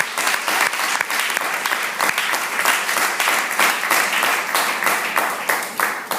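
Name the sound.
church congregation applause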